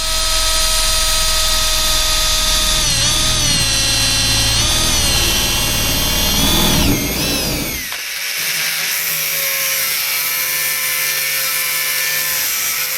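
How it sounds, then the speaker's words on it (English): Power drill boring a hole through a Ford Transit van's metal panel, running loud and steady close by, then the pitch shifts and it continues with a harsher cutting tone after breaking through. "So now that we've drilled the hole in there."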